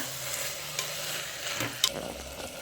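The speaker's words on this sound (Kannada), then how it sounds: "ನೋಡಿ ಆಲೂಗಡ್ಡೆ ಹಾಕ್ತಾ ಇದ್ದೀನಿ. ಸ್ವಲ್ಪ ಮಿಕ್ಸ್ ಮಾಡ್ಕೊಳ್ಳೋಣ." Potatoes sizzle as they are stirred and fried in a pan for a potato gravy, with a continuous close frying hiss and a few sharp spatula scrapes and clinks.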